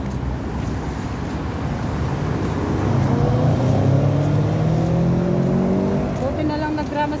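Steady street traffic in Dubai rumbles past as cars go by, with engines rising in pitch under a constant roar and a voice over it.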